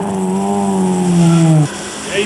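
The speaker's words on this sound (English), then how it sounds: "The distinctive exhaust note of the Mobil 1 Subaru Impreza of Satwan Singh and Tom Mariuki" Mobil 1 Subaru Impreza rally car at the Rally of South Africa, its exhaust note a loud, close, sliding drone that drops in pitch as the car passes, then cuts off sharply, with a voice faintly underneath.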